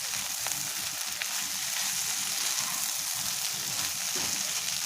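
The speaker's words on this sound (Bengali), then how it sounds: "এভাবে আমি নাড়াচাড়া করে কিছুক্ষণ রান্না করে নিচ্ছি" Loitta dried fish frying in a pan gives a loud, dense, constant sizzle with occasional faint stirring scrapes, close up and without talk.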